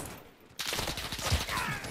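A burst of rapid gunfire in Call of Duty Modern Warfare crackles in after a short quiet opening, dense and close, with no talk over it.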